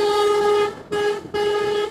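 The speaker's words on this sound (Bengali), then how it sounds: "হুদাই এটা হর্ন বাজাইয়া দৌড়াইল।" A loud, close road vehicle horn honks twice in long steady blasts with a brief gap between them, heard on a highway ride from Dhaka toward Barishal.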